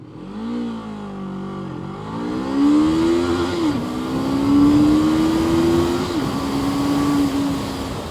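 A Voge 525RR motorcycle accelerates hard through the gears, its engine note rising and sweeping upward with brief dips at each shift, loud and close throughout.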